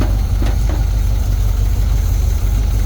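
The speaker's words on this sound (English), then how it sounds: "It's a much happier idle." A Jeep engine idles steadily after a wiring repair, a smooth, continuous low rumble close by with no talking over it.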